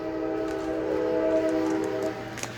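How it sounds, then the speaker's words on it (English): A train sounds a steady, sustained horn from a short distance outside a home garage workshop, the tone holding for about two seconds before it cuts off. "It's that train again."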